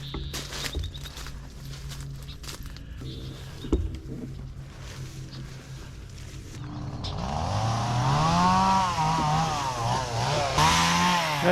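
A chainsaw cuts through thick, overgrown brush on a trail lined with Himalayan blackberry. Its engine revs and bogs in repeated rising and falling surges, growing louder and closer in the second half, over faint ambient noise and a few light knocks.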